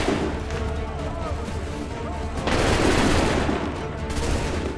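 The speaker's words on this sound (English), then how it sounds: "Wait for the signal. Fire now!" Musket volleys crackle and boom in Assassin's Creed 3, dense overlapping gunfire under a loud battle din with shouted commands, a heavier volley swelling midway, close and continuous.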